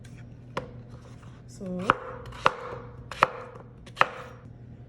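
A knife cuts through potatoes on a board for mashed potatoes in four or five crisp, separate chops at a loose, unhurried pace. A brief spoken word comes before the cutting.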